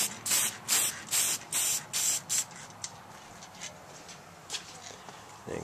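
Lacquer misted from a spray nozzle onto a 1941 Zenith vintage radio: a series of short, sharp hissing bursts in quick rhythm, then fainter scattered sprays, close and with no talk.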